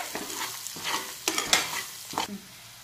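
Onions sautéing in a pan with salt and sambar powder, a close sizzle broken by repeated scraping stir strokes from a spatula, with no talking.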